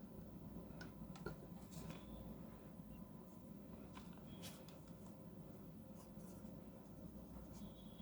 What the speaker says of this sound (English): here I'm going to give the writing sample of this pen